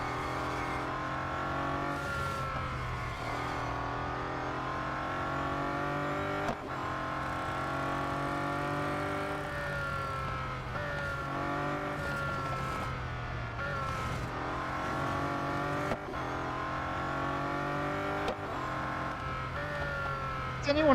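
Bugatti Centodieci supercar engine in Real Racing 3, a steady, loud synthetic engine drone with rising and falling gear pitch through the whole stretch, under continuous talk.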